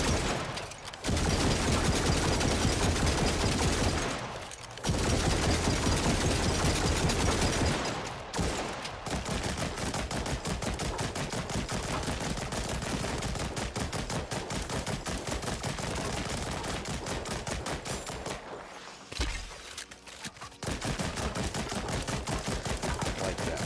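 Dual-wielded pistols fire in rapid, dense volleys in the VR shooter After the Fall, loud and continuous for long stretches with a few brief pauses, no voices.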